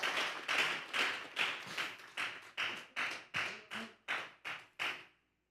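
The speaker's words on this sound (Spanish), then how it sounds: "Vamos a regalarle ofrenda de palmas al Dios de la gloria." Rhythmic congregation clapping during a church service, about a dozen firm, evenly spaced claps, then it stops abruptly.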